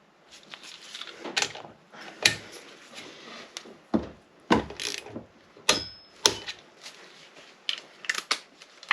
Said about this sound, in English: The first torque on all of them is 22 Newton meters, so I'm going to start with that